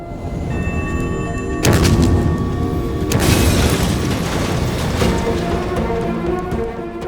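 A loud blast in a Hindi action film, a sudden heavy boom that breaks in and rolls on as a sustained rumble with a second surge, filling the scene with dense low roar and debris-like noise.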